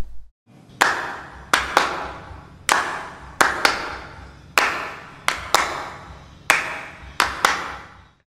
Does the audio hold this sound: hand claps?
yes